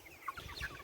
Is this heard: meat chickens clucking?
yes